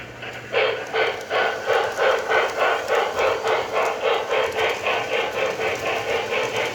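A rhythmic chuffing from a brass camelback model locomotive with a QSI sound decoder, steady repeated puffs at an even pace, moderately loud over a low mechanical hum.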